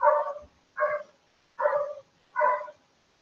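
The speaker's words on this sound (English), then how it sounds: "We still have the dog outside barking." A dog outside barks four times at an even pace, each bark short and clear, with quiet gaps between them; no talking.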